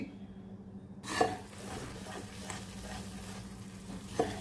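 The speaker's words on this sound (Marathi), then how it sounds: "हे मी वाटण व्यवस्थित शिजवून घेते" Ground masala paste cooking in a kadhai for a traditional misal pav, with a steady low sizzle and scraping stirs, two sharper clanks of the spatula against the pan standing out.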